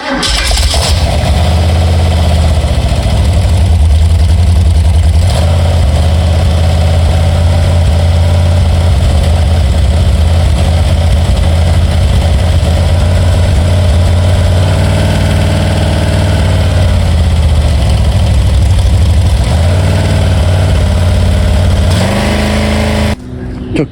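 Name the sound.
Ford 289 V8 engine idling, first start, mufflers off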